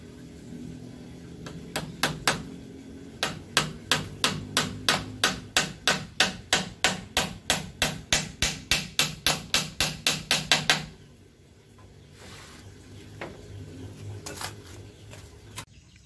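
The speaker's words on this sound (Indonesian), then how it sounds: "Kita paku bagian atas rak ini terhadap mistar." Nails hammered into a wooden oyster mushroom rack: a long run of sharp, evenly paced close blows, about two per second, then a pause with a few scattered knocks.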